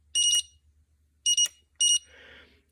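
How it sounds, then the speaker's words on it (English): A Linear AK-11 gate keypad, behaving faultily, gives three sharp electronic beeps at irregular spacing. The middle beep is a quick double pulse, and a faint low hum runs underneath. "As soon as you push a key, you get this double beeping"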